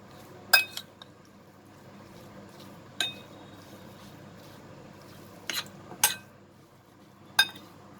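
A spoon clinks against a bowl while prawn pakora batter is mixed, giving five or six sharp, separate taps spaced irregularly over a quiet, soft background.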